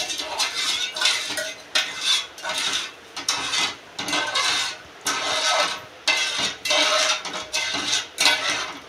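A utensil stirs sugar syrup in a pan while the sugar dissolves toward a boil, giving repeated rhythmic scraping and clinking strokes, close and fairly loud, with no talking.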